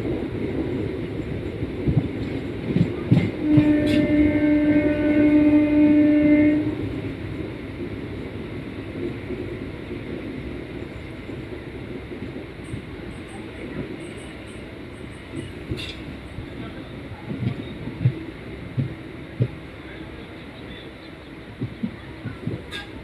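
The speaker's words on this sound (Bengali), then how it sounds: "আস্তে আস্তে আজিমগঞ্জ জংশন থেকে ট্রেন ছেড়ে মুর্শিদাবাদ জংশন হয়ে ট্রেনটি পৌঁছে গেল তার" A train pulls out of Azimganj Junction on its first run over a new line. A sustained horn blast sounds early over a rolling rumble, then steady running noise and wind buffeting continue alone.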